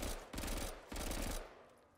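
PPSh submachine gun firing in Call of Duty Zombies on the Lighthouse map: two loud, rapid full-auto bursts, the second trailing off into a fading echo.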